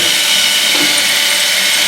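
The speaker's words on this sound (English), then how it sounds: "So what you do then is just work the drill across, not too aggressively" A drill bit grinds steadily through material while making a smoking snowman figure, a loud continuous high-pitched whine and hiss, close and unbroken with no voices.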